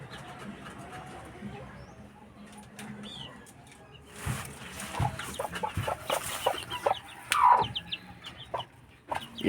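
Rhode Island Red hens cluck and chatter nearby in a small backyard coop, a busy mix of short clucks and calls growing louder and more frequent in the second half over a low background.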